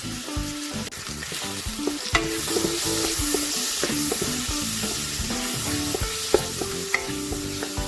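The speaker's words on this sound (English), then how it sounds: "So we're just gonna let it saute, okay?" Ingredients for spicy crab, including ginger, sauté in a pan with a steady sizzle, while a utensil repeatedly scrapes and stirs in rhythmic, close clatters.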